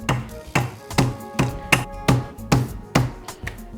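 Chicken breast being pounded flat, about ten evenly spaced dull thuds in a steady rhythm, close and alone.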